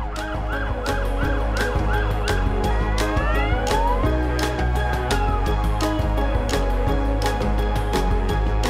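Police sirens rise and fall over a dense traffic rumble in a Bucharest park on Romanian Gendarmerie Day, several overlapping and loud, with repeated sharp yelps sweeping up and down throughout.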